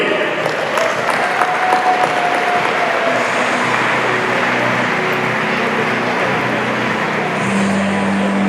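A crowd at a freshman orientation closing ceremony applauds street hockey champions, a loud, dense and steady clapping that lasts throughout with a hum of voices beneath it.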